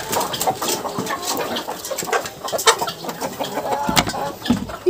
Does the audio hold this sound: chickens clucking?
yes